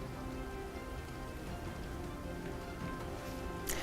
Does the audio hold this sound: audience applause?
no